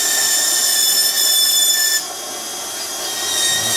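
A handheld rotary tool trims an acrylic temporary dental bridge, giving a steady high-pitched whine with a faint grinding edge. The whine is close and continuous and drops slightly in pitch partway through.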